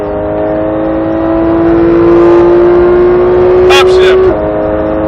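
A car accelerates hard on a driving course, its engine note climbing steadily and loud for about four seconds before dropping sharply at an upshift, with a voice talking over it.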